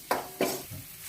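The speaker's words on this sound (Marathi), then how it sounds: "आता हिला आपण फोडणीत घालूया" Mashed moong dal goes into a hot tempering of spiced oil and is stirred, giving two quick sizzling bursts close up followed by a softer scrape, all within about a second.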